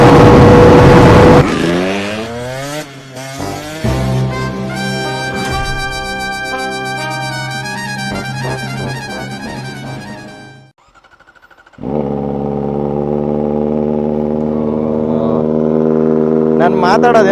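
A Kawasaki ZX-4R motorcycle's engine and exhaust ride loud and close in an open area, revving through rising and falling gear pulls, dropping briefly to near quiet before a steady high drone returns.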